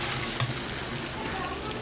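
Potato pieces fry in hot oil in a pan while being stirred, giving a short, steady sizzle with one brief knock of the utensil near the start.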